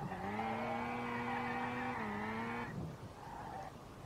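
An AWD rotary-engined MX-5 drifting in the SLRR racing game: a steady high rotary engine drone with harmonics slips in pitch near the end, then cuts off as tires scrub and the car fades.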